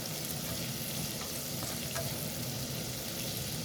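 Garlic frying in a pan gives a dense, steady sizzle that holds evenly throughout, close and moderately loud with no voices.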